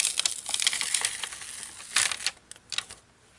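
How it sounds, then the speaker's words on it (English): Adhesive paper frame peeled off a cutting mat for a Christmas shaker tag, giving a close crackly, crinkling tear in bursts that fades to a few faint ticks at the end. "So I'm just going to peel one frame off."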